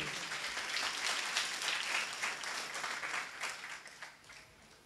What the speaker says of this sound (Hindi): तारीफ करो सब जोर से तालियां बजाकर किस बड़ी गवाही के लिए।